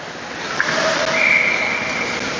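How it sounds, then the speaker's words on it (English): A referee blows a whistle at an ice hockey game, one sustained shrill blast of about a second standing above the rink's steady background noise. "And whistle blown there."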